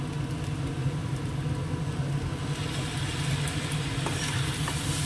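Vinegar and ground black pepper being stirred into a dish in a hot pan, giving a steady close sizzle with soft scraping and stirring throughout, no voices.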